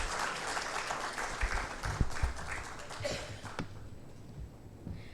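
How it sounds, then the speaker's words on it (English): Audience applause at a pharma industry event as a speaker is invited on stage, a full round of clapping that thins out and fades into quiet near the end, with a few louder claps and a bump partway through. "Can we please have a big round of applause as I now invite on stage Mr. Sujesh Vasudevan"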